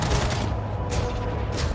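Heavy shotgun blasts and mechanical clatter from a mech battle in Mech Arena, booming close and loud, with a couple of sharp bursts standing out over continuous combat noise.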